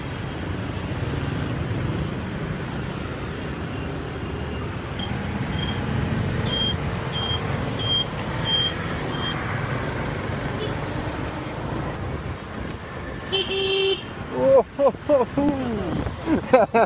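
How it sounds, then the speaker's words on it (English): Busy Ho Chi Minh City street traffic heard from a motorbike, with a constant roar of engines, scattered horn beeps and louder passing vehicles near the end, while someone talks over it. "The traffic in this city is absolutely wild."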